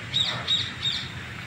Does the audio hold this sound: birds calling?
yes